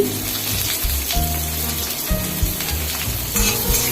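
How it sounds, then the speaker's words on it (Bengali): Vegetable stems, pointed gourd and ridge gourd drop into hot oil in a pan, giving a loud, crackling sizzle with bubbling pops. Close and continuous, with no speech. "এবার আমি ডাটা ছাড়ছি পটল ছাড়ছি ঝিঙ্গা ছাড়ছি"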